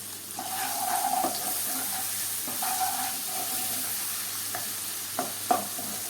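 Tomatoes with salt cooking in a pan, heard as a soft sizzle under repeated spatula scrapes and stirring strokes, with a few sharper knocks near the end and no voices.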